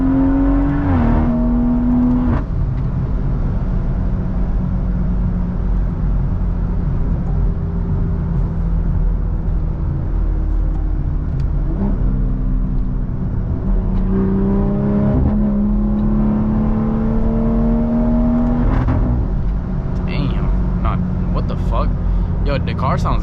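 Raw exhaust of a BMW B58 engine heard from inside the car on a drive, a steady loud drone with rising and falling revs and a brief acceleration climb, with some talk over it.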